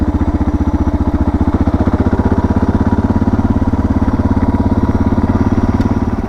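Suzuki DR650 motorcycle with a modified exhaust and carburettor idling steadily up close, a fast even low putter that holds loud and unchanging throughout with no voices.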